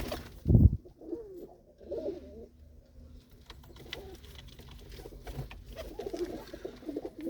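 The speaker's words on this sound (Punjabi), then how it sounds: "ਇਹ ਲਾਲ ਚੀਨੇ ਉਸਤਾਦ ਗੁਰਦੇਵ ਵਾਲੇ ਜਿਹੜੇ ਕਬੂਤਰ ਆ ਉਹਨਾਂ ਦੇ ਵਿੱਚੋਂ ਆ ਜੀ" Soft, repeated cooing of red Chini pigeons close by in a loft, with murmuring coos overlapping through the clip and a brief thump near the start.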